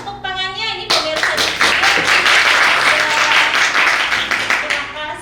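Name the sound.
applause from the studio audience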